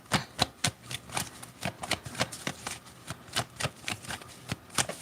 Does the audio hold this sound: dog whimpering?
no